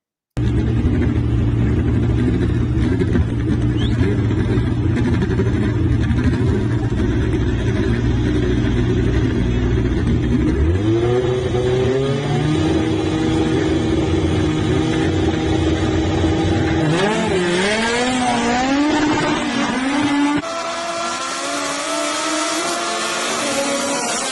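Front-wheel-drive drag race cars in a no-prep final make passes, their engines roaring loud and continuous, with rising revs and gear-change swells as they accelerate down the strip; no talk is heard.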